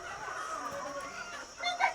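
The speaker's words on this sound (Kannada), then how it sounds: "ಬ್ಲಾಗಲ್ಲಿ ನಾವು ಕೋಳಿ ಫಾರ್ಮಿಗೆ ಬಂದಿದ್ದೇವೆ" Chickens cluck steadily at a poultry farm, a dense flock chatter close by, with a louder call rising near the end.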